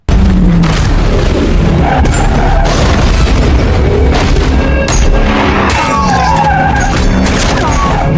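Police cars skid and crash during a film chase pursuing an ambulance, a loud continuous barrage of screeching tires, heavy booms and impacts with dense engine roar throughout, no voices.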